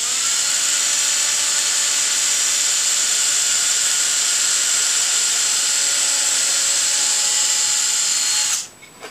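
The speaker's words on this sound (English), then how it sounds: "I'm going to drill my hole all the way through, and I'm using a very small bit" A power drill with a very small bit bores a reference hole through planed walnut, a loud steady high-pitched whine held for about eight seconds before spinning down abruptly.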